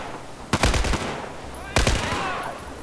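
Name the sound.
gunfire in the video game Battlefield 4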